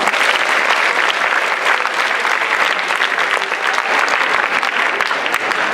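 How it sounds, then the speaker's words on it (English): A lecture audience breaks into steady, dense applause, many hands clapping continuously at close range throughout. "Give them a round of applause."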